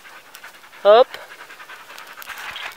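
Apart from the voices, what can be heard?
dogs jingling and panting by campfire in woods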